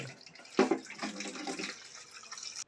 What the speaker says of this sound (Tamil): இன்னும் கழுவுறாங்க இது வந்து இதோட நாலாவது அஞ்சாவது கழுவு ஆயிடுச்சு